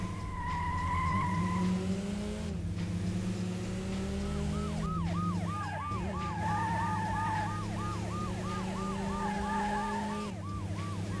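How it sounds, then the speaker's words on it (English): Wailing police sirens in the racing game Metropolis Street Racer, set on a San Francisco street, rising and falling steadily over a busy traffic and engine bed, fairly loud and continuous with no talk. "The birds are chirping, the police sirens are blaring."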